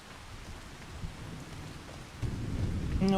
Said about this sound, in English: When's this rain gonna finish?